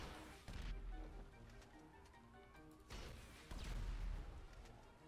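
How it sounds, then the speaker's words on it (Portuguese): Loud booming blasts from a rocket launcher in Grand Theft Auto V, two heavy explosive impacts with rumbling noise between them, no talking. "Começa a dar um tiro de RPG aqui."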